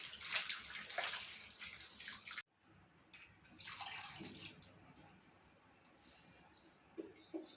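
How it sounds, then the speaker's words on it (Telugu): Gongura leaves being washed in water, with splashing and trickling bursts, a sudden break, then more sloshing and faint drips, close and fairly quiet. "గోంగూర ఆకును కడుగుతున్నానండి. శుభ్రంగా కడగండి, ఇందులో మట్టి ఉంటుంది."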